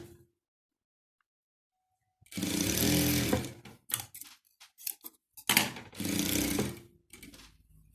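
A sewing machine runs along the edges of a quilt's patchwork pieces in two bursts of fast, whirring stitching, separated by short pauses and small handling clicks, following a quiet opening.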